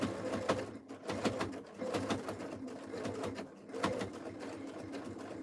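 An old, freshly cleaned sewing machine is test-run, giving a steady mechanical whir with repeated rhythmic thumps of the needle at close range, with faint background sounds.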